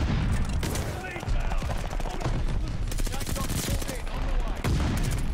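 An M1928 submachine gun fires in the shooter game Call of Duty Vanguard, loud rapid bursts rattling close up over a busy mix of other game sounds, with a voice speaking in the background.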